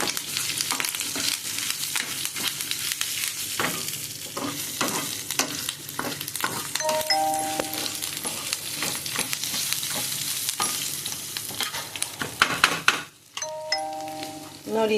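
Seasoning for radish sambar frying in hot oil, continuous crackling and rapid popping splutters, close and busy, with a few stirring clinks and faint background tones.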